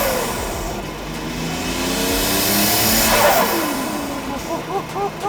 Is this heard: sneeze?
no